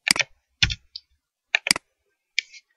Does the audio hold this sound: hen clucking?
no